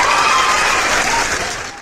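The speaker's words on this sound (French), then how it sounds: "On va applaudir pour ça." An audience breaks into loud, dense applause with a few cheers mixed in, a brief burst that tapers off and stops abruptly.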